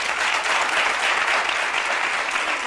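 Studio audience applause on a Spanish-language talk show, a dense, steady wash of many hands clapping at full strength throughout, with no voices standing out.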